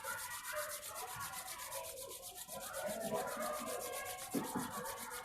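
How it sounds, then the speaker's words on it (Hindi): Two hands rub briskly together during a yoga workshop, giving a close, continuous dry swishing friction with a steady back-and-forth rhythm and no one speaking. "अब दोनों हाथों को आपस में रब करेंगे।"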